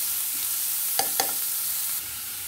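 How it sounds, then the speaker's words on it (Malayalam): Sliced onions sautéing in a pan for a winter melon (ash gourd) pachadi, a faint steady sizzle with two brief stirring clicks near the middle, no voices. "സവോള ഇതെല്ലാം കൂടെ നമുക്ക് ചേർത്ത് കൊടുക്കാം. ഇതൊന്ന് വാടി വഴന്ന് വരട്ടെ."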